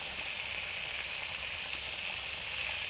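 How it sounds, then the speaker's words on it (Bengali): Pumpkin pieces frying in a kadai with green chilli, a faint, even sizzling hiss held steadily and close, with no talking. "একটু কুমড়ো ভাজা হচ্ছে।"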